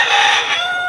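Fayoumi chickens raised for meat on a small poultry farm give a brief, loud, close call somewhere between a cluck and a crow. No talking.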